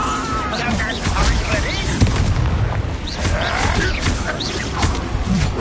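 A Bombarda spell explodes in a mine in Hogwarts Legacy, giving repeated booming blasts and crashing debris in a busy, loud stretch, with voices over the din.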